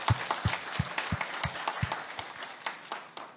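A church congregation claps warmly after a Sunday worship performance by the choir, a steady burst of many hands with a few louder near claps standing out at the start.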